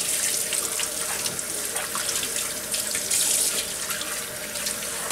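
Cold water runs steadily from a tap into a sink while a freshly caught lake trout is being cleaned, a continuous close splashing stream with small clatters of handling and no talk.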